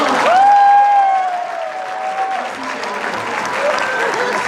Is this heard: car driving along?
no